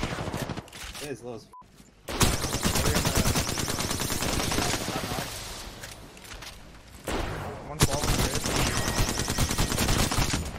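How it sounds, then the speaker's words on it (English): Rapid bursts of automatic gunfire from a shooter firing in Apex Legends, sustained and dense through most of the stretch, with a player talking over the shooting. "There are people shooting from over here"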